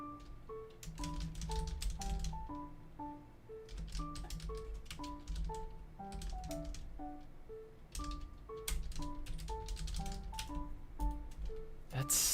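Typing on a computer keyboard, runs of rapid close clicks with brief gaps, heard over melodic game music.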